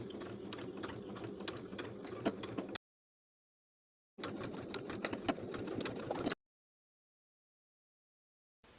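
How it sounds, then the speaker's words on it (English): Sewing machine stitching the edges of fabric binding, two bursts of fast rattling stitching of about two seconds each, divided by a silent gap, then a brief restart at the very end. "Sew both vertical edges of those short ends of the binding with a 3/8 inch seam allowance."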